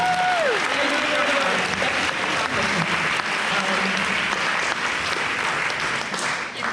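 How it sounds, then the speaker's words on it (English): A room full of people at a high school band banquet claps steadily throughout, a dense, sustained round of applause that swells and holds at a constant level before tapering slightly at the end. "So round of applause for Madison"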